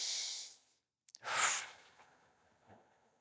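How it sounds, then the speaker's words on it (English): Deep, close breaths come in and out during a hiatal hernia adjustment: a long exhale, a pause, then a sharp intake followed by a slower breath that fades. "breath in, breath out"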